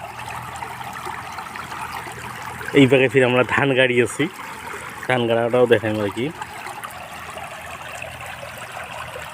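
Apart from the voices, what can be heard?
floodwater flowing and gurgling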